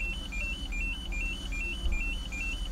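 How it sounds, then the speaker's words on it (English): A car's BSI unit sounds its key-left-in warning, a steady run of quick, evenly spaced electronic beeps, moderately loud over a low background rumble. "Why is this thing beeping?"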